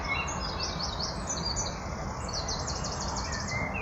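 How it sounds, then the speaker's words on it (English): A wren sings high, rapid trills during a dawn chorus, two bursts of quick repeated notes standing out over a steady wash of outdoor background noise, fairly distant. "You can hear that high trill of the wren."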